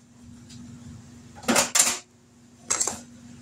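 A pot of chili set down on a kitchen stove, giving a close, fairly loud metallic clatter in two quick bursts followed by a shorter clank a second later, over a steady low hum with no talking.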